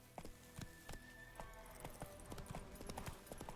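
Roach the horse's hooves clip-clop steadily in The Witcher 3 game, a quick sequence of close hoofbeats over ambient game sound.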